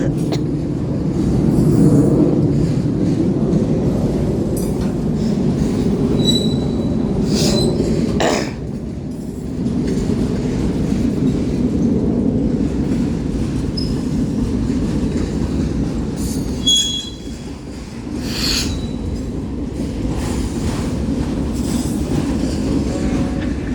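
Long CSX 7014 freight train rolling slowly eastbound, loud and close, with continuous clickety-clack of wheels over rail joints, repeated high metallic squeals and a brief cough.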